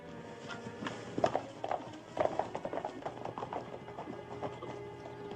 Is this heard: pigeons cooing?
no